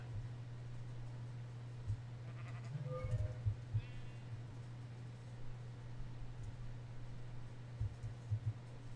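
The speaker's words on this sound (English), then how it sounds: "Sheep." Sheep bleat a few times in the Minecraft video game, fairly faint short calls over a steady low background hum, with no talking.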